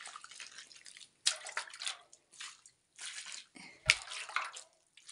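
Water poured from a container onto a heap of soil to soak it outdoors, heard as several separate splashing, trickling bursts with brief gaps between them, fairly near and moderately loud.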